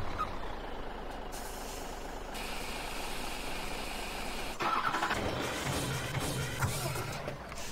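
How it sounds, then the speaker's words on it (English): Heavy truck engine in Farming Simulator 17, a steady broadband diesel rumble throughout, with an air-brake hiss and a louder revving surge in the second half, no talk. "let's grab this truck here"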